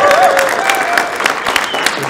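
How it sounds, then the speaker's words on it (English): Studio audience applause in a quiz segment, a moderate burst of clapping with some crowd noise, joined briefly by a voice and a whistle-like tone at the start. "Big round of applause."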